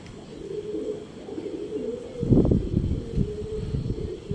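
Pigeons coo softly nearby, low throaty warbling over a steady background hum, with no one speaking.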